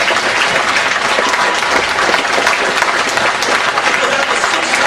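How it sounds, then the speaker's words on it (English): Sustained loud applause from a live audience at a London lecture event, a thick continuous roar of clapping that stays even and close throughout with no break. "Give yourself a round of applause."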